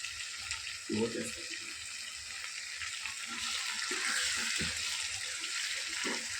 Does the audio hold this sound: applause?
no